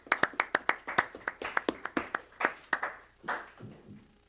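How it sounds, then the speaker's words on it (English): A handful of attendees at a county canvassers meeting clap in a small room, a sparse run of distinct, fairly close handclaps that slows and thins out toward the end. "I'd just like to clap for well done."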